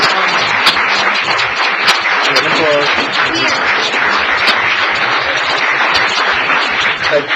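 Council meeting audience breaks into steady, loud applause that fills the room continuously from start to finish, with scattered voices mixed in.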